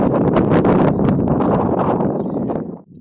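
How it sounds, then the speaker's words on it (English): Strong wind buffets the microphone in loud, rumbling gusts with a rustling texture during an outdoor spring nature walk, dropping off abruptly at the end. "as you can hear, it's windy too"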